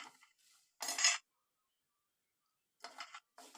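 Homemade mandi masala spice blend stirred in a hot pan, heard as a few short, close metal-on-metal scrapes and clinks of a spoon, separated by quiet gaps.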